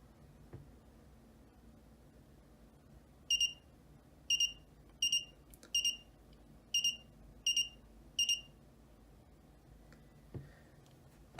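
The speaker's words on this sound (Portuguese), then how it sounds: "o Arduino ele dispara um alarme para nós" An Arduino temperature alarm going off, a run of seven sharp, high electronic beeps at fairly even intervals, clear over a quiet room hum.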